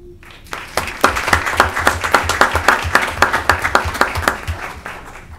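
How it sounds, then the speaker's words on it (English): A crowd at a county government meeting breaks into steady applause, many hands clapping together in a brisk rhythm that swells and then slowly fades. "Let's give a big round of applause"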